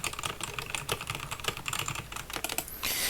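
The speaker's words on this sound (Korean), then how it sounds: "이게 타건 이미지가" Fast, continuous clacking of keys on a budget K68 mechanical keyboard with red switches, close and steady with dense overlapping keystrokes and no voice.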